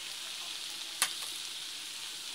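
Steady hiss of bitter gourd sautéing in a pan with egg and ground meat, broken by a single sharp scrape of stirring midway; fairly quiet, with no voices.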